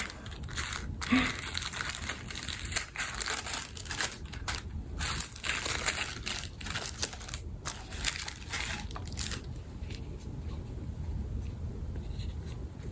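Tissue paper crinkling and crumpling close up while a Dior box is unpacked, continuous dry rustling for most of the stretch, fading to quieter handling near the end.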